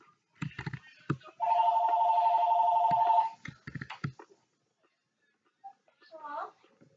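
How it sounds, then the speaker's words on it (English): A telephone rings during a Minecraft Hive hide-and-seek game, a steady electronic warble lasting about two seconds at moderate volume, with talk and game noises before and after it. "We're just going to ignore the phone, aren't we?"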